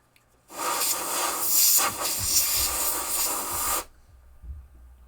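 An aerosol can held upside down sprays onto a 1973 Williams Triple Action pinball playfield to loosen mylar, one loud, steady hiss lasting about three seconds that stops abruptly and leaves quiet.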